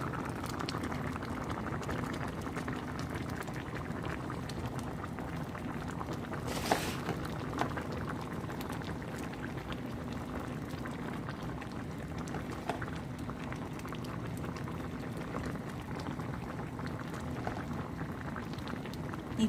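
A pot of curry with fried salmon pieces bubbles and simmers steadily with a dense, even hiss of boiling liquid, close by, with one brief clink partway through.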